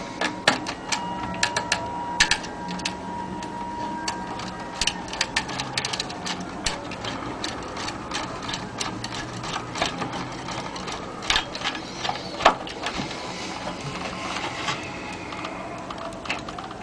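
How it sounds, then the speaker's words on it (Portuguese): A screw and clamp are fastened while a power transformer is mounted in a micro-system stereo, giving a run of close, irregular metallic clicks, taps and small rattles. "Então a gente coloca aqui o primeiro parafuso com a sua abraçadeira."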